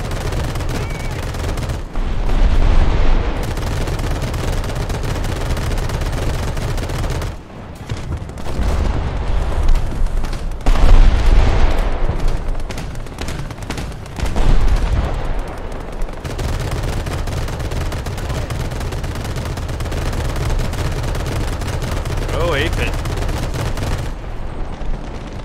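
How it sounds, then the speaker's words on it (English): Anti-aircraft gun in War Thunder firing armor-piercing incendiary tracers: loud, dense bursts of rapid automatic fire run almost continuously, broken by a few short pauses. "Just that really nice armor piercing incendiary tracer."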